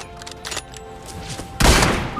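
M24 sniper rifle fire in PUBG on the Erangel map, a few sharp cracks and thumps, ending in a loud, booming shot that rings out and decays.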